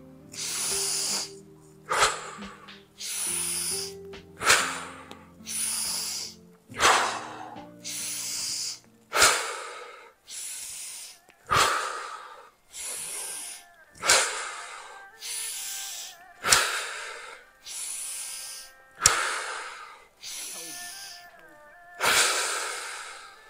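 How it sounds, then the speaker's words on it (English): Rapid, forceful breaths repeat in a steady rhythm during an alkaline breathing exercise, each sharp inhale and exhale loud and close, with a brief tonal background early on. "We're gonna go back to alkaline breathing."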